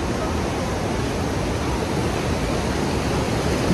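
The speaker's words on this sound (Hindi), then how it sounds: "बीच में जो है पानी का फ्लो बहुत ज़्यादा है" River water rushes through the Koshi Barrage gates in a steady, loud, broadband roar that holds constant without a break.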